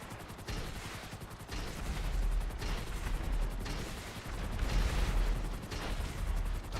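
Rapid, continuous rocket fire from a Sea Sparrow helicopter in GTA Online, a dense run of booming launches and blasts with steady low rumble throughout, loud and unbroken, with no speech.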